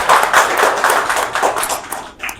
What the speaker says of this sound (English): I request all of you to give a big round of applause to our speaker.